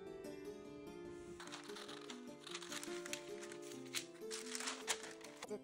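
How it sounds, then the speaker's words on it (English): Paper is snipped with scissors while cutting out a hand-drawn cookie template, a series of faint, close crisp cuts and rustles over a quiet background with soft music. "I first draw a template and cut it."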